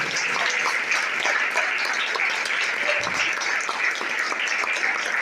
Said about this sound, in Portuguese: Dá uma salva de palmas bem forte, bem bonita para Jesus.